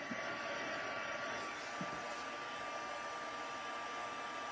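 A craft heat tool blows steadily while heat-embossing a birthday card, a continuous close whooshing hiss with a faint whine running throughout without pause.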